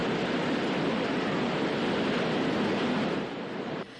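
A strong, steady roar of typhoon wind blasts continuously at close range from shifting directions, easing slightly just before the end.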